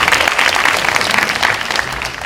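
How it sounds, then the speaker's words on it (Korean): A church college-group congregation claps in encouragement for its MC team, a loud, full burst of many hands applauding steadily for just over two seconds, close and unbroken. "수고하고 헌신하고 기쁜 마음으로 수고해준 MC단에게 다시 한번 격려의 박수 부탁드립니다."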